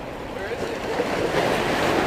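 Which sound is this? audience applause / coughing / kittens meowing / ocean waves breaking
ocean waves breaking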